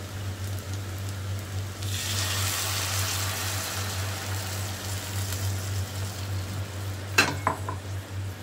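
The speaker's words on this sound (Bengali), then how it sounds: "এবারে আমি এটাতে দিয়ে দেব পরিমাণ মতন জল।" Water is poured into rice frying in a pan for a Bengali fish-head muri ghonto, and the sizzle surges into a loud, steady hiss under a constant kitchen hum, with a few clinks of utensils near the end.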